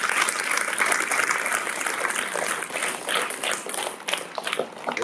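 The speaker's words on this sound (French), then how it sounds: "On applaudit." An audience at a school opening-day ceremony applauds, a dense burst of many hands clapping together, fairly close and sustained for several seconds with some voices mixed in.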